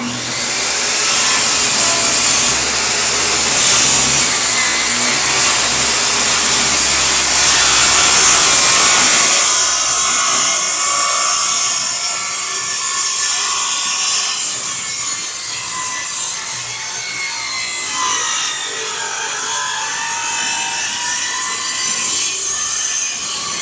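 A bandsaw cuts through wooden frames for a cruising dinghy, a loud, steady rasping whine for about ten seconds that then drops to a quieter running hum as the cut ends.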